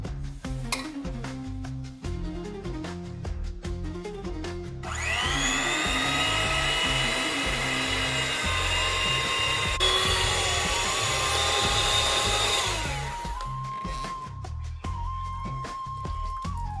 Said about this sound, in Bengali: আমরা এর জন্য হ্যান্ড ব্লেন্ডার ব্যবহার করছি।